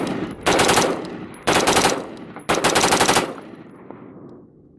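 Twenty rounds fired fast from the hip with a Dignity Defense gun, heard as three loud sustained bursts of automatic fire separated by short pauses, with the last burst trailing off into echo.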